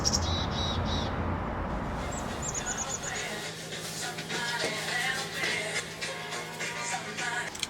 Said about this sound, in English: Blue jays flying all around, birds chirping.